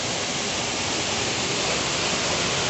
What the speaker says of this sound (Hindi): और झरना अपन दिखाते देख।